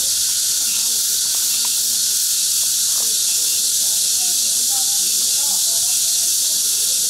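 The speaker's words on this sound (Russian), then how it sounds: "Это цикады." Cicadas drone steadily and loudly through a hot August day near the beach in Beidaihe, a dense unbroken hiss that holds without pause, with faint distant voices and scattered sounds beneath.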